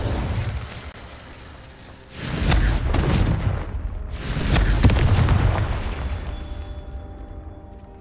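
Confringo spell blasts in Hogwarts Legacy on Xbox Series X: two loud, heavy booming explosions a couple of seconds apart, each with a rumbling tail that slowly fades, with no voices.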